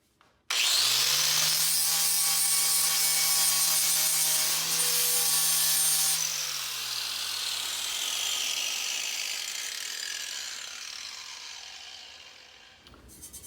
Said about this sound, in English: To finish the spot solders, whatever you want to call them, our friend the angle grinder and a flap wheel.